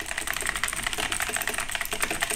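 Fast, steady typing on a compact RGB computer keyboard, a dense run of crisp key clicks heard close and alone with no talk.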